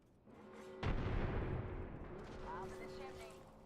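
Frag grenade blast in the video game Apex Legends: a single loud, broad explosion bursts in near the start and rolls off slowly under ongoing game noise and a droning tone.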